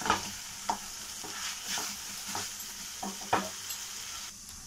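Tomatoes and onions sauté in a pan for sweet corn pulao, giving a steady close sizzle broken by several scraping stirs of the spatula at uneven intervals, with no talking.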